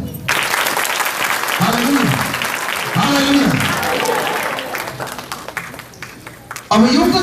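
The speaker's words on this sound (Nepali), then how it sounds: "उहाँको लागि ताली बजाउँ" Crowd at a national revival church conference applauding, a thick continuous roar of clapping with loud voices cutting in over it and a fresh burst near the end.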